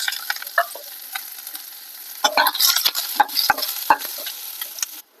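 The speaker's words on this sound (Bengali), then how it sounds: "পেঁয়াজ ভাজা হয়ে গেছে" Onion frying in oil in a pan for a banana-flower chop, with a steady close sizzle and clusters of spoon scrapes and clicks, growing busier midway before cutting off near the end, with no talking.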